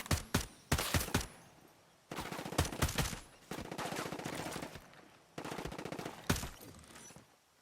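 Assault rifle gunfire in Ghost Recon Breakpoint, loud bursts of rapid automatic shots in several strings separated by short pauses, ringing out alone.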